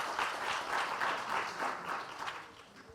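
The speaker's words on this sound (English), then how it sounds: "A round of applause for our next panelist." An audience at a literary garden festival panel claps for a panelist, a moderate, evenly sustained round of applause in gently pulsing waves, heard from a slight distance.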